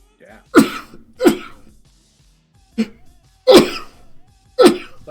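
A run of five sharp, explosive bursts, each brief and forceful like a sneeze or cough, spaced irregularly with quiet gaps between them, close and loud.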